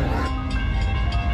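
Indian local passenger trains at a busy station give a dense, continuous rumble with metallic rail clatter and high screeching tones, loud and close with no speech.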